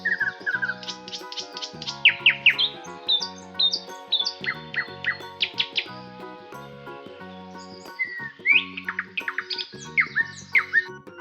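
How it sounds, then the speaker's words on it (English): Nightingale song: varied, rapid bright whistled phrases and trills in quick bursts, clear and close, continuing for several seconds with brief pauses and no talking. "Nightingale."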